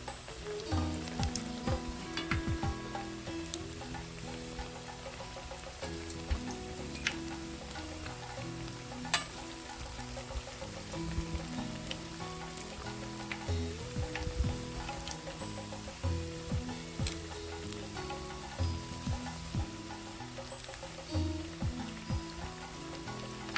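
Toor dal vadai made from ration-shop lentils sizzle and crackle steadily in hot oil, a dense continuous frying hiss with small pops and occasional stirring clinks, close and alone without talk.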